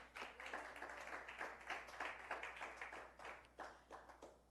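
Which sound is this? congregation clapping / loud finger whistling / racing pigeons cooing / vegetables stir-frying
congregation clapping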